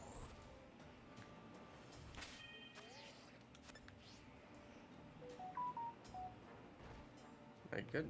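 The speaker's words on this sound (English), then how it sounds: "Getting a text message." A phone's text message alert chimes with short tonal beeps partway through, fairly faint beneath a voice talking over background game sound during a live stream.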